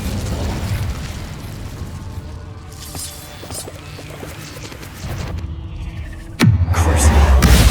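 A fire spell going off in the wizarding video game Hogwarts Legacy, with a burst of crackling, whooshing flame sounds and a sudden loud boom near the end, amid other game effects.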